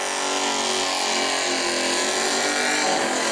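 A pickup truck engine revving hard at a burnout contest in New Smyrna, a loud, continuous high-pitched roar held steady at high revs with no break and no talk.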